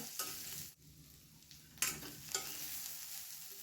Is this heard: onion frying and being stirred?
yes